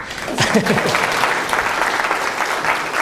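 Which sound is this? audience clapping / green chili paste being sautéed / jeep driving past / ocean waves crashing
audience clapping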